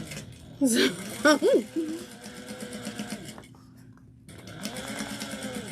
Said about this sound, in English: We're going to top stitch this down at 1/8 of an inch.